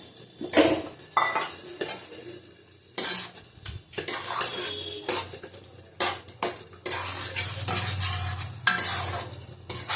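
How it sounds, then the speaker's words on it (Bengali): Shrimp, about 200 grams, going into a low-heat pan with a green jackfruit curry and being stirred, with repeated scraping and clattering of a utensil against the pot over a soft sizzle, close and fairly loud. "এর মধ্যে দিয়ে দেবো চিংড়ি মাছ।"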